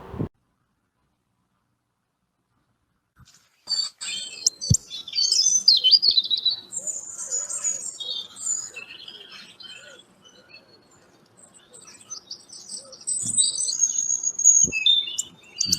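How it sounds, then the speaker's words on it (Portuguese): Small birds chirp and twitter in quick, high bursts, clustered near the start and again toward the end, with a few sharp clicks and no voices. "você traz os passarinhos"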